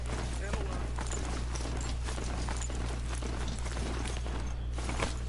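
Footsteps of a ridden mount in the Horizon Zero Dawn video game, a steady, fast clip-clop over a constant low hum, moderately quiet and close.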